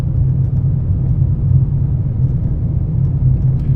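A car drives along a road near Interstate 40 in Morganton, North Carolina, with a steady low road and engine rumble throughout, close and continuous.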